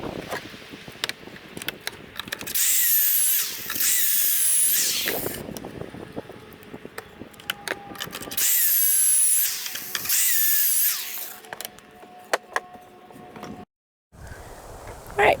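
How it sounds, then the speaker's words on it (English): Pocket holes are drilled into plywood for a scrap wood storage cart, with a drill whining loudly in two separate pairs of long bursts, separated by quieter handling noises and wood clatter in between. "finish marking these and then drill my pocket holes"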